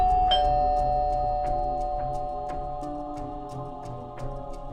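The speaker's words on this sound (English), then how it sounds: "the doorbell rang." A doorbell chimes once near the start, its tone ringing out over a steady background hum with faint repeated ticks.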